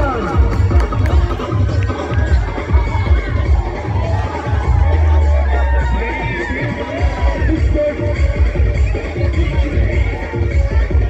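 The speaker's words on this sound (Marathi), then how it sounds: "प्लॅव्हलियन मध्ये विजयाचा जल्लोष चालू झालेला पाहायला मिळतो आपल्याला" A village premier league cricket crowd roars and cheers a match victory at the pavilion, a loud, dense, continuous wall of shouting voices with high yells mixed in.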